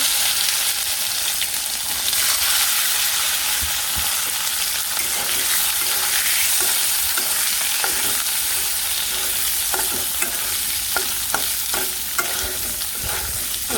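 Potatoes frying in a pan, a steady bright hiss of hot oil running throughout with intermittent scraping and tapping of stirring, close and loud with no one speaking.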